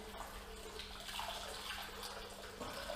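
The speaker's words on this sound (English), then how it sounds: "pull it out of the water, you just want to squeeze the water out" Water splashing and dripping as a foam dirt bike air filter is lifted out of a wash tub, a steady close trickle with small drips, with no talk.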